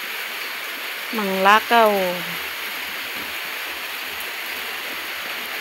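Rainwater pours steadily into a canal as a constant wash of flowing water, with a voice speaking briefly over it.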